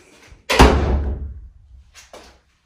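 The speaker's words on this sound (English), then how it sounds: "If I close the door" A bathroom door swings shut with a single firm thud that rings out and decays over about a second, followed by a couple of faint softer knocks or rattles as it settles.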